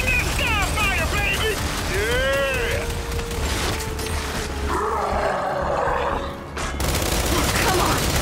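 A satellite sky fire strike pounds down during a Gears 5 firefight, a sustained roaring barrage with heavy rumbling and whooshing over constant battle noise, alongside shouted voices and mechanical effects.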